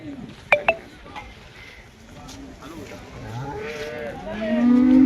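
A Holstein Friesian cow moos loudly and drawn-out at the Loni cattle market, with a busy crowd murmuring and a few clinks in the background, the lowing building toward the end.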